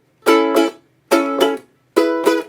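Accented staccato 16th-note strumming pattern from a song, three evenly spaced pairs of short, bright, percussive chord stabs with clean gaps of silence between, no voices.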